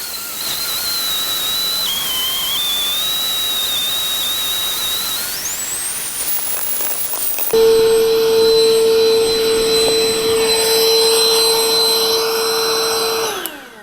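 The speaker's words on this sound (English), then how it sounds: "the pump works in reverse as well" A cheap electric pump built into a king size air bed runs in reverse to deflate it, a steady loud whine and rushing hum that shifts higher partway through, then turns into a harsher, buzzing motor tone with a strong steady pitch.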